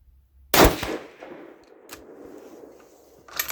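A 6mm ARC rifle firing Hornady 65gr V-MAX rounds lets out a single loud, sharp shot that rings off in a decaying tail, followed by a few faint clicks and another sharp burst at the very end.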